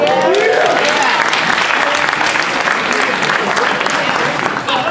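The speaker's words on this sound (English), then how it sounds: "please clap if you know Paul Mooney keeps it real." Live audience claps and applauds loudly, a thick continuous wash of hands with some cheering voices mixed in, holding steady throughout.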